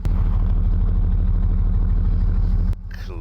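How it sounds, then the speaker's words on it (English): A 1982 Volvo 240 with a D24 diesel engine idles after a cold start, a loud, close, steady clatter that runs evenly before cutting off abruptly near the end. "We are now idling nice and beautifully."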